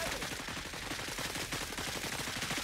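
Sustained gunfire in the tactical game Cepheus Protocol, a steady rattle of distant overlapping shots and bursts forming a continuous din of combat with no voices.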